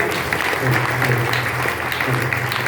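Audience clapping in a community hall at a Brahmin society building in Gwalior, with steady dense applause throughout and a low steady hum beneath.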